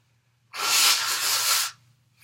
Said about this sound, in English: I'm just going to blow my nose here.